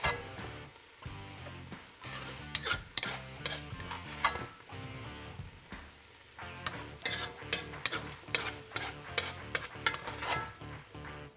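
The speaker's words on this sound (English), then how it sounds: "my vegetables are pretty much cooked, so now I'm going to go ahead and pull them out and set them aside" Vegetables for a brisket chili sizzle in a pan while a utensil stirs and scrapes, giving close, repeated clinks and scuffs over a constant crackling fry, with no talking.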